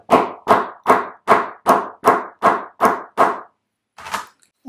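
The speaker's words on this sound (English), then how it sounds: "And then using a little hammer, you can attach that." Nine steady, evenly spaced taps of a small hammer striking a metal snap on a sewn wallet, close and sharp, followed by a pause and a softer final knock.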